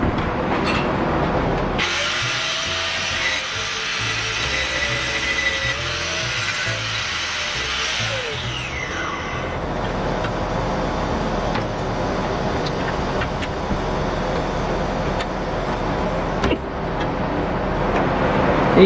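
An angle grinder cuts into the steel front trunnion of a CETME C rifle kit, a loud, harsh, steady grinding roar with a rising whine for the first several seconds, then continuing as a rougher buzzing scrape.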